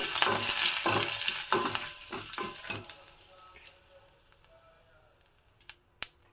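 Curry leaves hit hot oil with a loud burst of crackling sizzle and sputtering pops that fades away over a few seconds, followed by two sharp clinks at the end.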